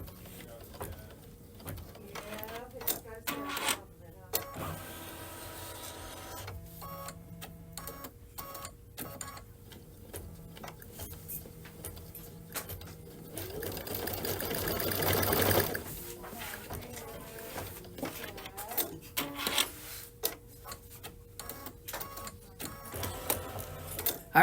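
An embroidery machine sews a placement line in green thread, a steady rapid stitching hum broken by clicks and short pauses, close and moderately loud, with a person talking at points.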